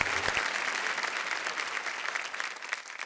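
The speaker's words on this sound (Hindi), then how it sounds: "जोरदार तालियां" Enthusiastic audience applause at a Hindi comedy poetry show, dense, sustained clapping from a crowd that stays steady for a few seconds before thinning slightly.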